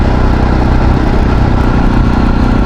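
A motorcycle engine runs loud and close, with a steady low rumbling drone throughout.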